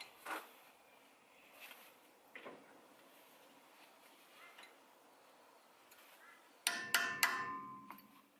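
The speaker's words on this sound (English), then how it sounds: "now what I'm going to do is pop this little cap off, just with a hammer" A hammer knocks the small cap off a 4WD wheel hub during front wheel bearing re-greasing, giving a short cluster of sharp metallic taps and a ringing clang late on, after quiet workshop handling noises.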